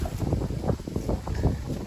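Steady wind rushing and buffeting across the microphone outdoors, a continuous low roar with gusty pulses and no talking.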